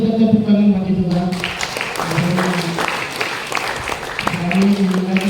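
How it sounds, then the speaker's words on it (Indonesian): Applause from a church congregation giving praise to God, a sustained, fairly loud clapping that fills the room, with a voice speaking over it at the start and near the end. "Kita tepuk tangan bagi Tuhan."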